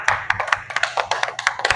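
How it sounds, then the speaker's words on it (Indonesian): A small classroom group of junior high students claps for the first team, producing sparse, uneven hand claps close by that last under two seconds. "tepuk tangan buat kelompok 1"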